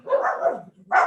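Rescue dogs bark at home, acting as an alarm when someone walks in: a loud, close run of overlapping barks lasting most of a second, a brief pause, then another sharp bark.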